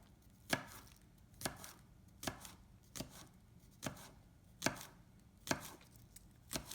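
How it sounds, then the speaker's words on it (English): A knife chops vegetables small on a cutting board in a home kitchen, giving about nine sharp, evenly spaced thuds, close and quiet with no one talking. "so you just cut it pretty small"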